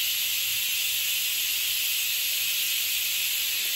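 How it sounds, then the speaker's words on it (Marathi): A pressure cooker cooking whole masoor lentils hisses in one loud, unbroken, high-pitched jet of steam that lasts the whole time. "कुकर लावलाय मी"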